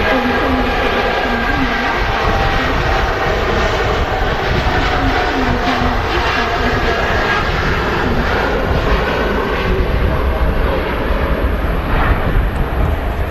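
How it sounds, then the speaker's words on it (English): A TUI Boeing Dreamliner takes off from Manchester Airport, its jet engines building to a loud, steady roar that holds throughout, heard from nearby. "Here's the TUI Dreamliner rolling now."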